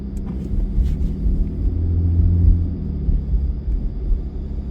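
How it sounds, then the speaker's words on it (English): A car's engine rumbles low and steady as it drives through heavy snow, with a muffled, heavy road drone rising slightly midway. "I'm giving this car a little bit of a test to see how bad it is driving in the snow"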